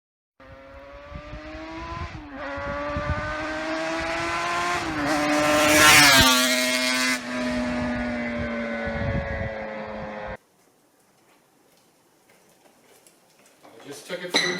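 An RZ350/TZR250 hybrid two-stroke motorcycle on a test ride, engine droning loud and close with rising and falling revs peaking mid-run, then cutting off abruptly, followed by near-silence and faint noise at the end.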